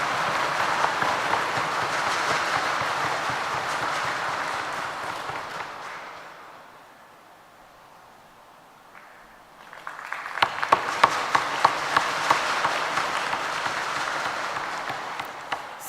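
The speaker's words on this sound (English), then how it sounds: "I request the delegates to please give them a loud round of applause" Delegates at a UN Replica conference applaud award winners in a hall, a long burst of clapping that fades into a quiet lull before a second round of crowd applause starts up again.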